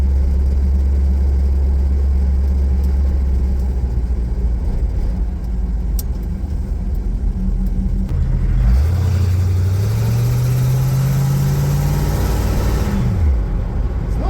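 A loud, steady 1936 Chevy truck engine with new mufflers rumbles at idle, then revs up with a rising pitch before easing back down.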